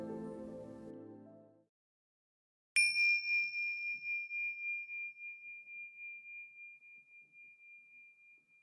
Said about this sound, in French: La méditation débute par un son de cloche et se termine par 3 sons de cloche.